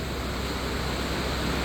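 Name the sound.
pouring rain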